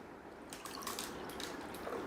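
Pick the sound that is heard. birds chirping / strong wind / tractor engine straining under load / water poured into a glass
water poured into a glass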